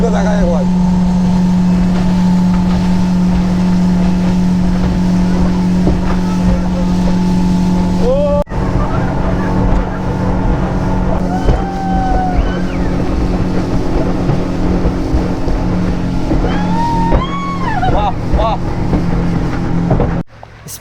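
A speedboat carries a small group across a dam reservoir, its motor droning steadily and loudly with wind buffeting the microphone and people talking over the engine throughout.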